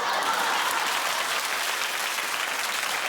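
A television talk-show studio audience claps in a dense, steady wash of applause, loud and even throughout with no break.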